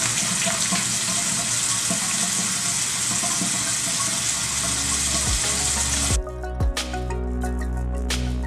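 Bathroom sink tap running steadily with a full, close water hiss, then shutting off near the end, leaving a few drips and faint hand sounds.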